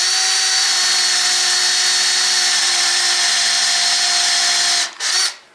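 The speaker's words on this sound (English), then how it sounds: "I want to create a pilot hole real quick" A Makita CXT FD06Z cordless drill driver boring a pilot hole runs as one loud, steady, high-pitched whine for nearly five seconds, then stops abruptly and gives a brief final buzz.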